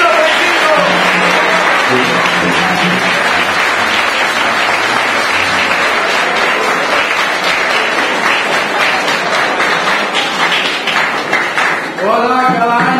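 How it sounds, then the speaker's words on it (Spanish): Loud, sustained crowd applause for San Isidro at a religious procession gathering in Lobatera, with dense clapping filling most of the stretch, voices mixed in, and a speaking voice emerging near the end. "Y un fuerte aplauso a San Isidro."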